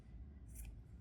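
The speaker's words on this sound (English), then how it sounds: "And then cut the yarn, leave a bit of a yarn tail" One quiet, brief scissor snip cuts crochet yarn for a small amigurumi bunny, heard close over low rumbling background noise.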